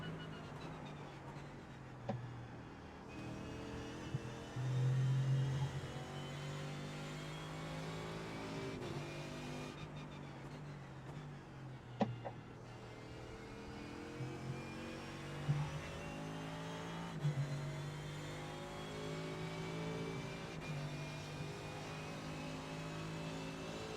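Race car engine from the iRacing sim on the final lap of a VRS GT sprint at Road America, a steady loud drone with shifting pitch and brief gear-change dips, running continuously for the whole stretch.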